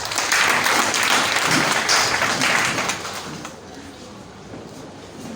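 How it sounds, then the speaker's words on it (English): A crowd claps and applauds for about three seconds, then the clapping fades into quieter room murmur. "I think we should give the directorate a big round of applause before I start."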